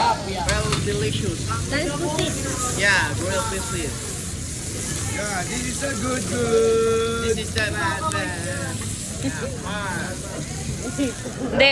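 Fish fries at a street food stall over an open fire in the Philippines, a steady sizzling hiss beneath busy market voices and someone talking.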